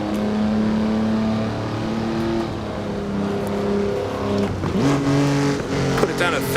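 Race car engine in the Assetto Corsa racing game at the historic Pau Grand Prix street circuit, droning steadily under load, then dropping sharply and revving back up as the gear changes, loud and close.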